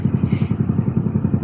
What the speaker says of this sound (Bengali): এই লঞ্চ এখন ছাড়বে, শুরু করলো আমাদের সামনে।